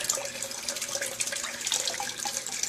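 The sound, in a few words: water splashing from a tap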